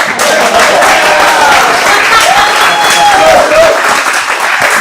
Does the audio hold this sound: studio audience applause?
yes